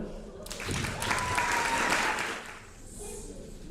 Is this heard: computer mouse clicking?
no